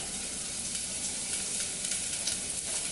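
Onions fry in hot vegetable oil with a dense, continuous crackling sizzle at moderate volume, broken by small pops and spits.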